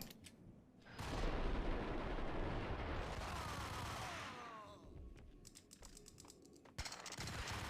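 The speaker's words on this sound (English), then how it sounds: "So this bit, they throw a grenade" A grenade blows up in the video game Max Payne with a loud, sustained roar that lasts a few seconds and then fades. Sharp clicks and pops follow as the scene quiets.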